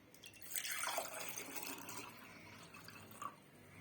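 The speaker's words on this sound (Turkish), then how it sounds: "Şimdi bardağıma aktaralım." Cool lime drink, made without ice, is poured into a glass: a quiet liquid stream splashes for a second or two, then thins to a soft trickle and a few drips.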